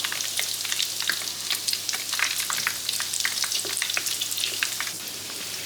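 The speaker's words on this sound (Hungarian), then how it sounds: "nagyon-nagyon hamar megsül, hogyha már az olaj teljesen felforrósodott" Hungarian carnival doughnuts (fánk) fry in fully heated oil, a dense, even crackling sizzle with rapid popping bubbles throughout, close up and without talk.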